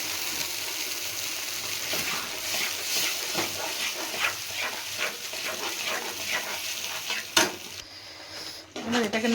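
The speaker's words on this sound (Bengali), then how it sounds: "এর মধ্যে আমি দিয়ে দেবো পেস্ট করে রাখা সেদ্ধ বাঁধাকপি আর টমেটো।" Boiled cabbage paste and tomato go into a pan of cooked onions in a Bengali home kitchen, giving a broad, close sizzle with irregular stirring scrapes and clatter and a sharp knock near the end.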